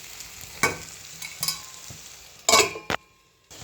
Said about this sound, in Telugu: టమాటా ఉడుకుతుంది